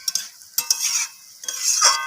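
Masoor lentils being stirred and mixed in a frying pan while cooking for a vegetarian banana-flower dish, with short scraping strokes and soft sizzle in uneven bursts, close and moderately loud, no voices.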